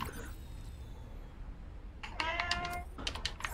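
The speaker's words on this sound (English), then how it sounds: "Kitty's so loud, eh?" A cat in the Subnautica Below Zero game meows loudly in a quick burst of several calls near the end, after a stretch of quiet low background hum.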